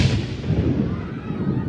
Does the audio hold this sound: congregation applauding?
no